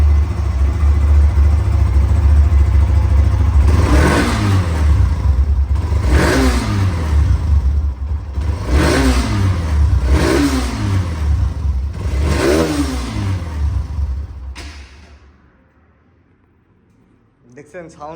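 A second-hand Hero XT motorcycle engine idles loudly nearby, then revs five times in quick repeated throttle blips, each rising and falling, before cutting off into near silence with a faint knock at the end.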